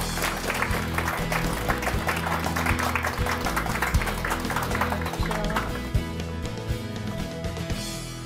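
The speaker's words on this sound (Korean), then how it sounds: "큰 박수 부탁드립니다." Steady applause from an audience over background music, the clapping continuing evenly before fading a little near the end.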